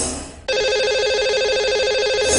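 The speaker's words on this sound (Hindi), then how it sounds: "लगाते हैं इन्हें अब कॉल।" A telephone call is placed on a live call-in show: after a brief quiet moment, a loud electronic ringback tone starts and repeats steadily in a rhythmic warble.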